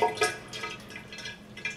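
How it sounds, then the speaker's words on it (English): Water from a Universal Rundle tilt flush valve spills and trickles in a quiet, uneven series of splashes and drips, close by and faint. "the water here is where it pours out"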